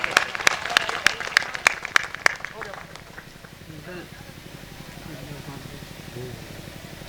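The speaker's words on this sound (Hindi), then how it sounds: "जोरदार ताली बजा करके प्रधान जी का स्वागत करिए।" A crowd at a political rally in Kaushambi claps in a short burst of distinct, fairly sharp hand claps, thinning out after a couple of seconds as murmuring voices and talk carry on.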